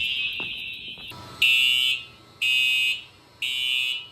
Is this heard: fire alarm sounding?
yes